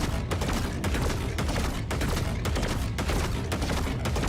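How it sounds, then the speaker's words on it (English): Rapid, dense shotgun blasts from the Borderlands 4 video game, a near-continuous barrage of loud, sharp broadband bursts with brief gaps every half second or so, no talk over it. "So that will walk around and shoot shotgun blasts at people."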